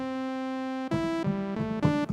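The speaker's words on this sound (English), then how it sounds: "grab this 8-bit trumpet" An 8-bit trumpet synth preset from the vintage keys section of Studio One Presence plays a bright, buzzy retro lead: one long sustained note, then a quick run of shorter notes with a bell-like attack, clear and alone.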